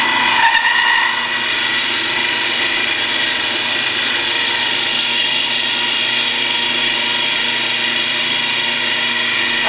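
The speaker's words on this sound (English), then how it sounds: "I get my saw started, and I'm drilling it off on purpose here so you can see it going through" A drill-driven hole saw bores through scrap wood in one continuous, loud, close whine that holds steady from start to finish without pause.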